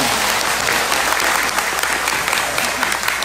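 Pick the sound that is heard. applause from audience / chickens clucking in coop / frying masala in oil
applause from audience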